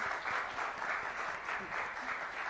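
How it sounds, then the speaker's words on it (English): A live audience applauds for Dean Felicia Rashad, a steady wash of clapping from a crowd that swells and dips slightly without stopping. "please, let's give Dean Felicia Rashad a round of applause"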